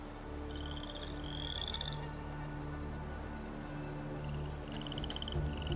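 A frog croaks in a video game, with a few short, bright croaking calls repeating over a steady low ambient game drone, with no talking.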